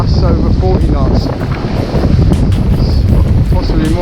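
Storm winds gusting well over 30 knots on an exposed shoreline during lure fishing, a loud continuous roaring buffet battering the microphone with surging gusts throughout, no voices.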